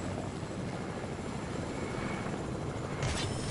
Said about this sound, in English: I'm gonna call on my chopper so we can come.